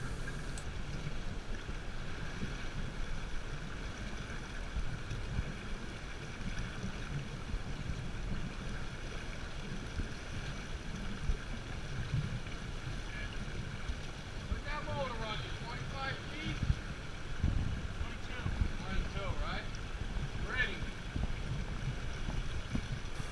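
A motorboat heads out onto the Atlantic from Atlantic Highlands at dawn. A steady low engine and hull rumble runs throughout with wind buffeting the microphone, and brief voices come in faintly near the end.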